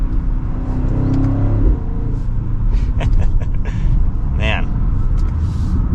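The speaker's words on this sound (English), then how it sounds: "a little bit of gurgles and pops on the overrun of the engine" BMW X5 M60i SUV engine revving inside the cabin, a steady low rumble throughout with faint gurgles and pops on the overrun, while a person talks over it.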